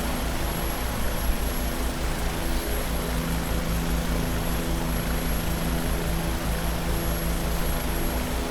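A Bell 407 helicopter in the X-Plane 11 flight simulator gives a loud, continuous drone of rotor and turbine engine. It holds steady throughout with no breaks or talk.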